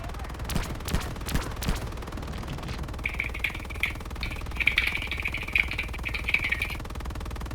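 Rapid bursts of gunfire crackle in a video game infantry training session, with dense volleys early on and scattered shots later, mixed with a high electronic tone and faint voices.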